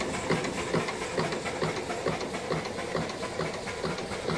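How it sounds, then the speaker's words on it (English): An antique steam engine runs with a steady, rhythmic chuffing beat over a constant hiss, close and fairly loud, with no voices. "Anyway, listen to that chuck."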